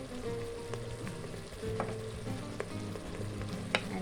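Mixed herbs and garlic are stirred through beef browning in a hot pan for a beef and vegetable stew, giving a steady close sizzle with occasional scraping strokes of the spoon.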